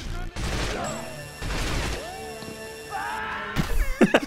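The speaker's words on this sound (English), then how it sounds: "Oh my god, it's like an impact grenade." Grenade blasts and gunfire in a chaotic James Bond shooter game, several loud booming bursts and crashes in quick succession, with a voice speaking between them.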